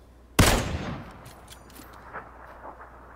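A single loud burst of gunfire in a shooter video game cracks out sharply, then its echo and scattered smaller pops trail off over the next few seconds.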